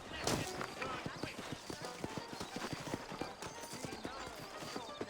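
Steady clip-clop of horse hooves at a trotting rhythm in the video game Red Dead Redemption, fairly near, mixed with background sounds and a busy ambient bed.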